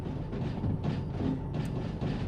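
A DH4 locomotive rolling along the track in the railway game Derail Valley, a steady low rumble with soft rhythmic clacking from the wheels, close and moderately quiet, without talk.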